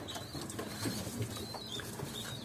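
Ankara pigeons coo softly and repeatedly at close range, with faint chirps and rustling in the background.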